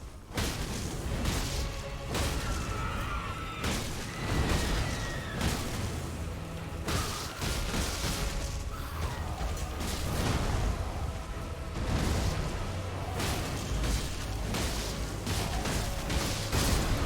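Fire attacks burning enemies in the video game Elden Ring, a dense run of booming blasts, bursts and whooshes with crackling roar, loud and continuous throughout.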